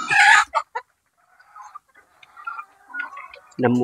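Chickens cluck in short bursts close by, with quieter clucks and calls in between and a louder squawk at the end.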